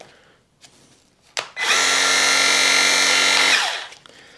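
A Parkside PDRA 20 Li D4 cordless pressure washer motor starts up after a couple of clicks, whines loudly and steadily for about two seconds, then spins down.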